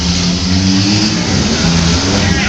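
Several demolition derby cars at a state fair night heat roar and rev together, a loud, dense, steady engine drone with thick low rumble that never lets up.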